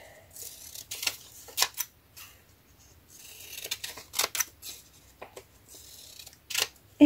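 Scissors snip through craft paper in a series of short, close, crisp cuts, irregularly spaced with quiet gaps between them.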